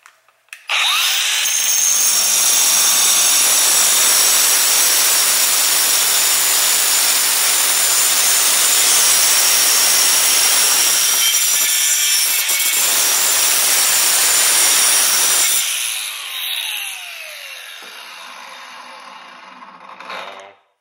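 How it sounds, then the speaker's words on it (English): A Milwaukee M18 FUEL cordless angle grinder (2780-20) cuts through steel, giving a loud, steady, high-pitched abrasive whine that holds for about fifteen seconds and then winds down as the disc spins out. "we will cut through this, and it should be much quicker than 1/4 inch hardened steel"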